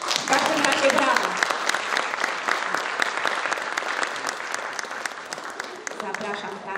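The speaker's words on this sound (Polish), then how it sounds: "W każdym razie brawa." An audience at a Polish regional concert of laureates from a trumpet and brass music festival claps steadily and loudly, a dense continuous wash of hands that slowly thins toward the end.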